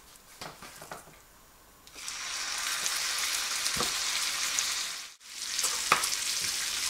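Beef fillet sears in a hot pan for beef Wellington, a quiet start with a few taps before a loud, steady sizzle takes over, briefly cut off and then resuming.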